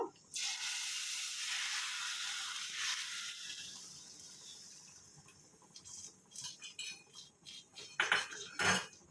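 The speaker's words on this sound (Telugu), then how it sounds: "ఇప్పుడు ఈ పోపుని దీంట్లో వేసేసుకుంటున్నాను." Hot oil sizzles loudly as a spiced tempering hits a pot of raw mango tamarind stew, fading to a softer crackle, then a few clinks of a metal spoon.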